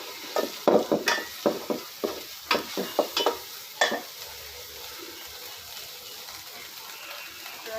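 Curry is stirred and sautéed in a pan over a wood-fired stove: a quick run of sharp scraping, sizzling bursts at first, then a quieter, steady low sizzle without talk.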